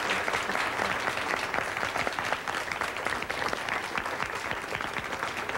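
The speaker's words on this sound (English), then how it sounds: "You please applaud." An audience applauds continuously, a dense, even patter of many hands clapping for the whole stretch with no voices over it.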